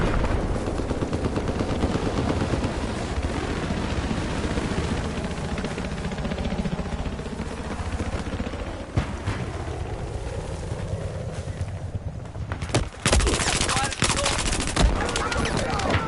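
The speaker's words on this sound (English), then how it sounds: "I've spotted a hostile machine gunner due north of your location." Rapid machine gun fire crackles through a Battlefield 4 battle, with dense bursts over wind and background rumble and a sharp loud burst near the end.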